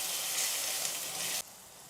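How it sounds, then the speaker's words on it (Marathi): Ginger garlic paste for a dried Bombay duck curry sizzles and fries in a hot pan with a steady loud hiss that cuts down sharply near the end. "आता यातच आपल्याला आले लसणाची पेस्ट घालायची आहे."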